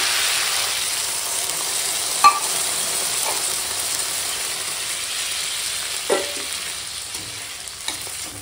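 Water poured over vegetables already sautéed with spices in a pan for a fish-roe curry, raising a loud, steady sizzle and hiss that fills the clip, with a few faint clinks of a utensil.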